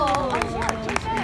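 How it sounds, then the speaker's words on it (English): Audience applause at an outdoor classic car concours honoring Packards, a dense patter of clapping from a crowd with talk layered over it, close and steady throughout the short burst. "A round of applause, please."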